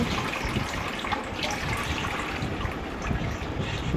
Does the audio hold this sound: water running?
yes